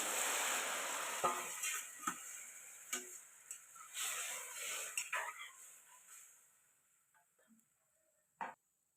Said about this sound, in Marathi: फोडणी मस्त अशी तळलेली या आपण ह्याच्यामध्ये भाजी टाकून घेऊ